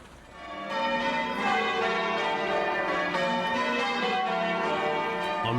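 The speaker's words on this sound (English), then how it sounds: "bells rang out across Britain to signal the end of the war" Church bells across Britain peal on and on, marking the end of the war in 1918. Many overlapping strikes build into a loud, continuous wash of ringing.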